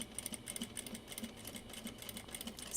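A sewing machine stitches the bottom seam of a zipper pouch at a 1/8 inch seam allowance and roughly 2.5 stitch length, giving a steady, quiet mechanical whir with fast even clatter and no talk.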